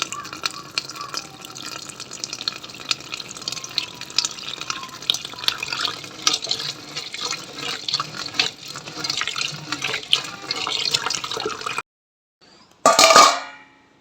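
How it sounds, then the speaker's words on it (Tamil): Water pours steadily onto lentils in a container for about twelve seconds, a continuous splashing trickle, then stops; a brief clatter follows after a short pause. "இதில் வந்து தண்ணி விட்டு நாங்கள் ஊற விட்டுருவோம்."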